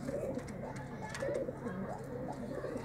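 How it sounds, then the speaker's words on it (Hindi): Puff pigeons coo softly and steadily at a low level against a muffled background. "ये पफ वाले कबूतर हैं,"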